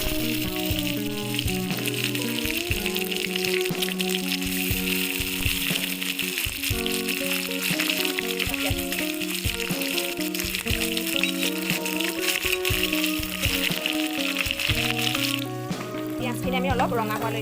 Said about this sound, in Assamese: আমি অলপ ৰঙা হোৱালৈকে ধুনীয়াকৈ ভাজি দিব লাগিব।